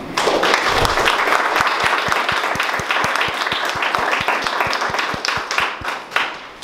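An audience at an art talk in a university museum breaks into warm applause, dense at first, then settling into a few distinct louder claps before fading.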